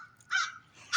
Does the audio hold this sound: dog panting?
no